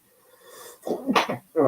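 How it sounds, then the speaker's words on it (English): A play-by-play commentator sneezes once during a live broadcast of a Braves vs Cubs baseball game. The sneeze is sharp and close, follows a short intake of breath, and a voice starts right after it. "I had to sneeze"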